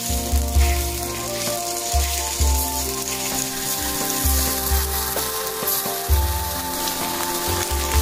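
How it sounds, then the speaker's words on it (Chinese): Mung bean jelly (menzi) pieces frying in hot oil in a pan give a steady crackling sizzle throughout, with a low droning hum beneath that cuts in and out. "烙饼这个煎焖子，锅温度上来，倒点油"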